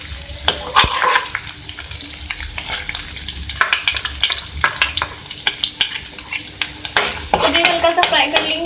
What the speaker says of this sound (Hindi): तो भी हल्का सा फ्राई कर लेंगे।